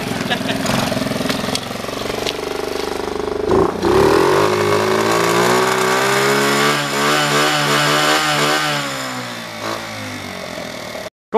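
A small Kawasaki 125 motorcycle engine rising and falling as it revs and pulls away, a loud buzzing drone that climbs in pitch before tapering off, with talking partly over it.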